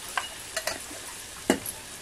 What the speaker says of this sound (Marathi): तेलामध्ये छान परतवून घ्यायचं. कांदा मिरची मस्त परतून घेतल्या.